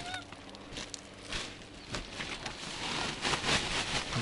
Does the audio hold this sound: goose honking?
yes